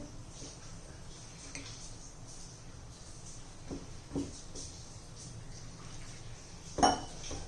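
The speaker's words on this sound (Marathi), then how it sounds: "पाणी घालून आपण मिक्स करून घेऊया" Rice flour and besan batter being mixed with water in a bowl, giving soft, quiet stirring and scraping with a few light clinks of utensil against the dish, heard alone.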